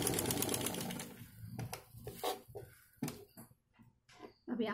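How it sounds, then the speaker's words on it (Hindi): Sewing machine stitching blouse fabric, short bursts of close mechanical whirring with pauses between runs, fairly quiet with no talk. "और इधर भी सिलाई कर देंगे।"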